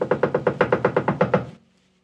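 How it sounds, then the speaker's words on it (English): A rapid run of about a dozen evenly spaced, loud knocks on a locked door, each a hollow thud, stopping abruptly into silence. "they begged, knocking loudly."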